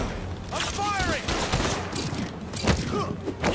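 Gunfire from the Marvel's Spider-Man 2 video game, a dense rattle of shots and thumps mixed with game effects and whooshes, heard under loud excited talk throughout.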